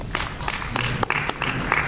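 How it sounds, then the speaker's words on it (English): A conference audience applauds after a talk, a dense round of clapping with a few louder individual claps standing out, lasting the full two seconds. "Let's give him a better round of applause."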